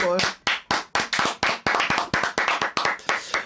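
Rhythmic hand clapping, roughly a dozen sharp claps in a steady beat, close and loud.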